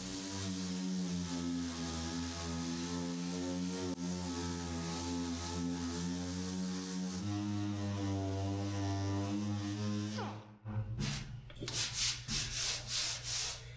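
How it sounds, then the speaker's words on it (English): A DA sander with 80-grit paper working over a Toyota truck body, a steady droning hum with a gritty rubbing hiss, close and loud, pitch shifting once, before winding down into several short scrapes and bursts near the end. "I'm gonna hit it with 80 grit just to kind of knock it down."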